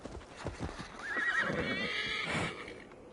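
A horse whinnies in a rising, shrill neigh, preceded by a few soft hoof clops, moderately loud and near, in the video game Assassin's Creed Valhalla.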